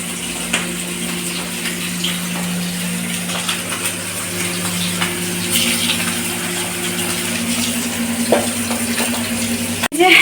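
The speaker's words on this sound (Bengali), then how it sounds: "এই যে মাছের মাথা ভাজছি" Katla fish head frying in hot oil in a home kitchen, a steady loud sizzle and crackle with scattered spits and pops, an electrical hum underneath and a sharp clatter at the very end.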